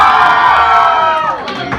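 Fans at a meet-and-greet event erupt in a loud burst of cheering, shouting and whooping, a dense crowd roar that swells and then tapers off quickly.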